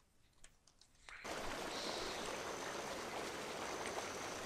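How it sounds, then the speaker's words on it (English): Flowing water in the video game Zeno Clash 2 rises abruptly after a second of quiet clicks into a loud, steady rushing hiss that continues unbroken, with no one talking. "I hear water."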